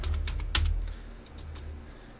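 Someone types on a computer keyboard with a short, quick run of key clicks, fairly close and moderately quiet against faint room noise.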